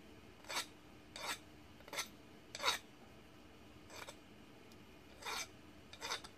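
A hand file rasps across the rounded edge of a milled metal part, seven or so separate strokes at an uneven pace, close and moderately loud, with no talking.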